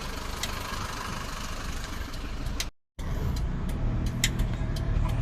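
An Isuzu Adventure 3.0 4x4 with automatic transmission, switched to two-wheel drive, runs with a steady close engine rumble and a brief dropout partway through.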